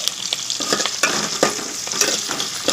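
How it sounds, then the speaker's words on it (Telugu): Onion and tomato pieces fry with curry leaves and green chillies in a pan for mutton curry, a steady close sizzle broken by repeated stirring scrapes at a loose, even rhythm, with no talking. "ఉల్లిపాయ ముక్కలు కొంచెం వేగనిద్దాం టమాటా ముక్కలు వేసుకుందాం"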